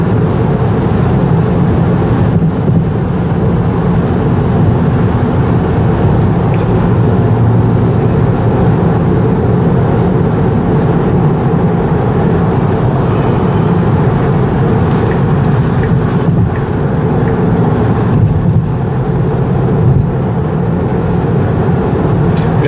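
Steady low rumble inside a Tesla Model 3 electric car at highway speed, with broadband road and wind noise holding constant throughout and no talking.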